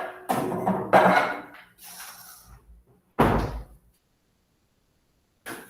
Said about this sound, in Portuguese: Vou só fechar a porta aqui da minha sala